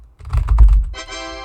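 Keys are struck in a quick run on a membrane computer keyboard, giving soft muffled thuds close by, followed by a sustained tonal sound.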